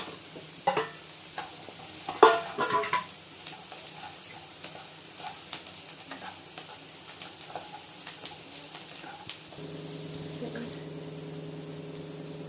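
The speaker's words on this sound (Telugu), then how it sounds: "ఇప్పుడు ఈ పన్నీర్ ముక్కలను వేసి కలుపుకుందాం" Paneer pieces stirred into a frying pan for paneer fried rice, with scraping and clinking of a spoon against the pan over a soft sizzle, a few sharper knocks early, then a steady hum near the end.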